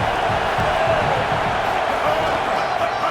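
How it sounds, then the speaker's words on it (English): A football stadium crowd at Virginia Tech at Clemson roars in a steady, loud, continuous wall of cheering and noise that swells without a break. "this crowd is turning it up a notch"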